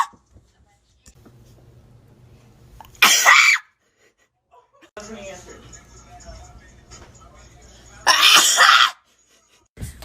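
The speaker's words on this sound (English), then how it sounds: "I just sneezed 3 times." Two loud, sudden sneezes burst out several seconds apart, each sharp and forceful, with quiet muffled voices and low room noise in the gaps between them.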